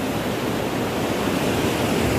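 Calm sea waves wash onto a beach in a soft, steady broadband hiss, with no distinct breaking crashes and no one speaking.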